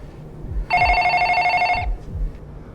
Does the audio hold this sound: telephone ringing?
yes